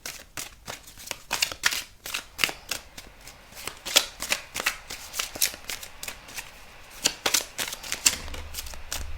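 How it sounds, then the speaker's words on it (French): Tarot cards are shuffled by hand with rapid, crisp riffling flicks close up. They come in quick bursts across several seconds, with brief pauses between, and no voice over them. "on va aller tirer des cartes de tarot pour voir avec un tirage en croix"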